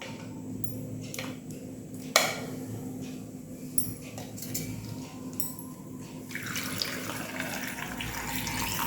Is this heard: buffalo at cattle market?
no